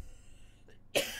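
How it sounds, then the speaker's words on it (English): A single short cough, sudden and fairly loud, after a brief quiet moment. "Well, you hear me coughing"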